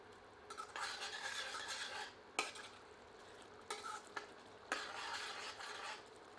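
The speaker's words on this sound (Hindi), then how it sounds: "इन्हें मिलाकर पुनः 1 से 2 मिनट मध्यम आंच पर भूनते हैं।" Potatoes and spices frying in a pan on medium heat, heard as bursts of stirring and scraping with a spoon, quiet sizzle underneath, and a few metallic taps between the strokes.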